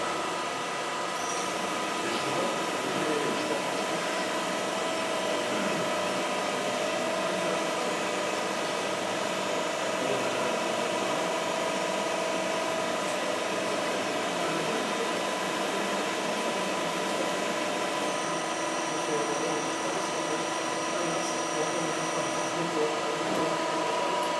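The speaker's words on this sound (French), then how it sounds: "quand on va arriver à la fin du pli, la machine va s'arrêter parce qu'on va être au nombre de pièces qu'on a demandé" An Estun E200 press brake bending sheet metal in a workshop, giving a steady mechanical hum and hydraulic whine with a faint tonal drone, continuous and moderately loud throughout.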